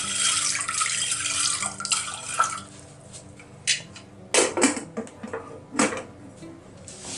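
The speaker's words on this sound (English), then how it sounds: "Add the water, enough water," Water pours from a tap into a pot of red beans for boiling, a steady close rush for the first few seconds, then broken splashes and clinks as the flow stops and the pot is handled.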